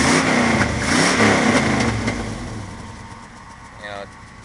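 A 1981 Knight Rider car's engine runs steadily as it drives, loud at first and then fading into the distance, with people talking over the engine noise.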